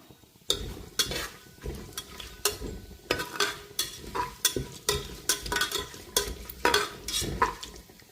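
Whole spices frying in hot oil for bagara rice, a steady sizzle broken by repeated stirring and scraping strokes in the pan, close and fairly loud with no talking.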